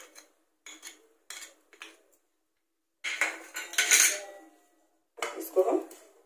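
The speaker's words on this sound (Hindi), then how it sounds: "इसको हमको ऐसे ही भूनना है। इसको हम हल्का पहले भून लेंगे।" Semolina dry-roasting with cardamom powder in a pan on a medium flame while a spoon stirs it, giving intermittent scraping and metallic clinks in short bursts, close and moderately loud, with quiet pauses between.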